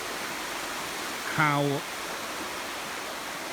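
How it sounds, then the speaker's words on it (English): Water rushes steadily over a historic river weir as a continuous broadband roar, with a short burst of talk near the middle. "past this beautiful weir, historic weir, you can see over there"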